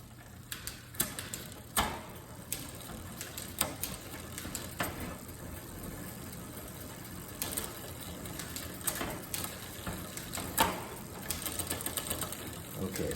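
A bicycle's rear derailleur shifting across an 8-speed cassette with hesitant shifting: a steady mechanical whir with scattered clicks and ticks throughout, close to the microphone with no clear talk.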